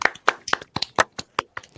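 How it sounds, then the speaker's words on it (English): Hand claps for the winner of an X-Wing gaming community contest, a sparse, uneven patter of roughly a dozen distinct claps from a few people, close and fairly loud, with no talking over them. "Can we get some applause for Daryl"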